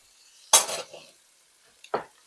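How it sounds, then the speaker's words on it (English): Blue cheese being stirred into a mac and cheese casserole with bacon and caramelized onions, two short close scraping strokes of a utensil through the thick mixture, the first louder, separated by quiet. "stir that in it real good"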